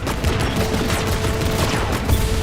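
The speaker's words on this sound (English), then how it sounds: "heavy metal machine gun that fires according to its own" A heavy machine gun in the video game Destiny 2 fires a loud, dense stream of rapid shots. The bursts blur into a continuous rattling barrage with a few heavier thumps.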